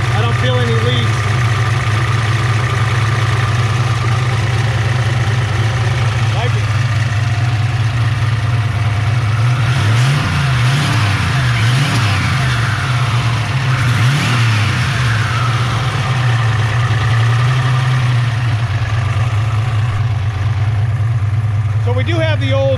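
A car fitted with an On3 78mm billet turbo idles loudly close by and is revved several times in the middle, the engine rising and falling in pitch before settling back to a steady idle while someone talks over it.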